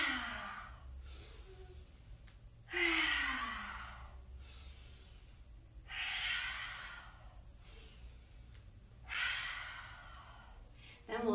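A children's yoga session with mermaid breathing: slow, deep breaths in and out come in a regular rhythm, each long airy exhale swelling and fading, with a faint adult voice between them.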